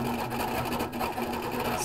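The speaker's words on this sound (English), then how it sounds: "let's do one stitch there" An HQ Capri sewing machine stitching through fabric gives a steady, continuous mechanical hum and whir with a fast, even rhythm, running close and alone.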